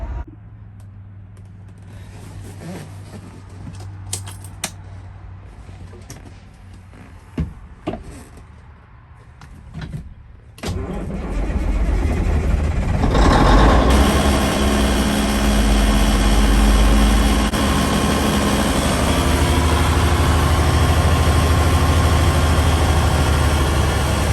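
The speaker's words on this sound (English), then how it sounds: "I'm gonna fire this thing up and see if it'll build air pressure" A 1971 Peterbilt 352 truck sits quiet with faint clicks, then its engine cranks and fires at around ten seconds and settles into a loud, steady, rumbling idle close by.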